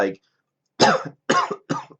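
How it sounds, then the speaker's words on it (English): A few sharp coughs in quick succession, close and fairly loud, after a brief bit of a voice. "excuse me, little cough."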